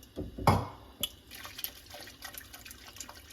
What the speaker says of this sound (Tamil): கொள்ளு பருப்பு வேக வச்சுருக்கோம் பார்த்தீங்களா அந்த தண்ணியவே இதில் ஆட் பண்ணிக்கிறோம்